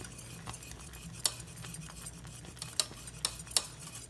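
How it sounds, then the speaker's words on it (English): Caramel sauce being whisked in a pot just off the heat for caramel apples, light metallic clinks of the whisk against the pan over a quiet background, with a few sharper taps. "Keep it whisking a couple times and then let it cool like that"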